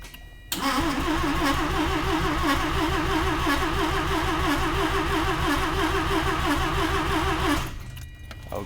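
A 1982 Mazda RX7 rotary engine starting from cold with a manual choke, catching abruptly after a brief quiet moment and holding a loud, steady, slightly wavering idle for about seven seconds before dropping away, with no talking.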